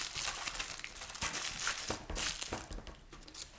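Paper being crumpled by hand for a rainforest mural, a dense run of close, loud crinkling and crushing rustles with brief thumps as pieces are pressed down, heard alone.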